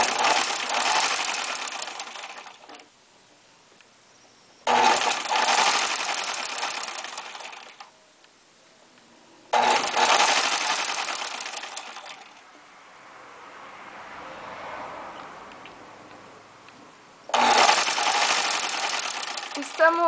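A sewing machine stitches the crotch seams of shorts in four loud, sustained runs of rapid mechanical whirring, separated by quiet pauses with faint background sound and brief talk.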